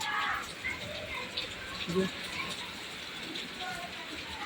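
Steady hiss of rain falling, with a person talking faintly and intermittently underneath.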